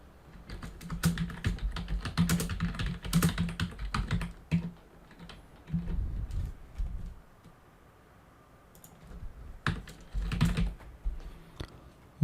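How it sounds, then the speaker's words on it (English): Close, quick typing on a computer keyboard, a dense patter of clicks in several bursts with short pauses between, alone with no voices. "let's just type anything here."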